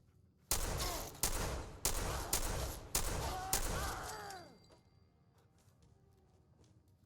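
A shotgun fires five sharp, loud blasts at a steady rhythm in the video game Fallout 4, each followed by a ringing decay, then the action falls quiet.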